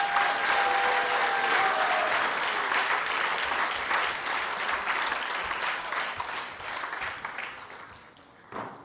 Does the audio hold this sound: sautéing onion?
no